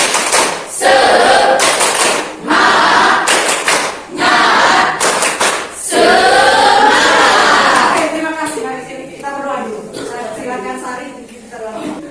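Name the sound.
class doing rhythmic spirit clapping (tepuk semangat)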